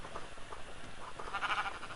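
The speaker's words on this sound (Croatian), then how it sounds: "Evo, 3 ovce ćemo uhvatiti." Sheep in the Minecraft video game bleat a few times over a soft, steady game background, with one louder bleat near the end.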